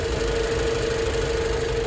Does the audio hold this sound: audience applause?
no